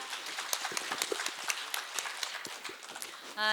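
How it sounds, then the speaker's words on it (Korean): Listeners at a welfare benefits information session in Nowon-gu give a lecturer a round of applause, a fairly faint, scattered patter of claps that ends as a voice begins. "다시 한번 뜨거운 박수 부탁드리겠습니다"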